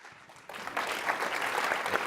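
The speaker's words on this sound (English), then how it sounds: "So please help me with a round of applause welcome our guests," A university lecture-hall audience breaks into applause to welcome guests, starting quietly and then swelling into dense, steady clapping that carries to the end.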